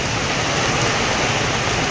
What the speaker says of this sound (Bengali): এতটাই বৃষ্টি হচ্ছে